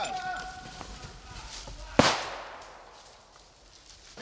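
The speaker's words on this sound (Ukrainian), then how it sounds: "а з різних боків лунають постріли та вибухи" During a military training exercise, a single sharp, loud bang like a gunshot or blast cracks out midway, its echo fading; faint rustling and movement before it.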